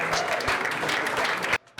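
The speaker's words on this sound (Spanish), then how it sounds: "Ahora quiero pedirles un fuerte aplauso para ustedes que están aquí en un jueves de la tarde" Audience applause at an afternoon panel discussion, a loud continuous crowd of clapping hands that cuts off abruptly near the end, followed by a brief quieter moment.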